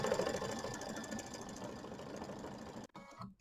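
An embroidery machine stitching out fills and outlines on mini quilt blocks, a steady close mechanical whir with rapid needle chatter running continuously, then stopping abruptly near the end.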